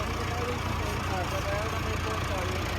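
A Massey Ferguson 385 tractor engine runs at about 2000 RPM while pulling a 54-blade rotavator, a steady, close, continuous drone with a voice speaking over it.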